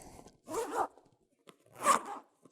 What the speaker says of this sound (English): got the zippers on both sides